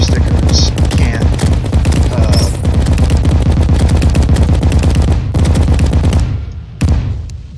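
Rapid explosions and gunfire-like blasts from an expert-mode Terraria demolitionist challenge pound almost continuously, loud and dense, then cut off near the end with a brief final burst.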